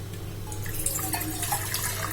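Hot water for tea trickles and splashes softly in a home kitchen over a steady low hum, fairly faint.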